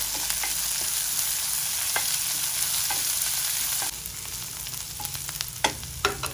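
Chopped onion, dried red chillies and curry leaves frying in hot oil: a steady sizzle throughout, with occasional sharp clicks and scrapes from stirring in the pan, and no talking.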